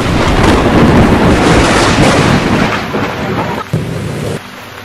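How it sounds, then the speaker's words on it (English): Heavy, steady rain roars close by with a deep rumbling undertone, easing slightly toward the end. No voices. "And the rains descended."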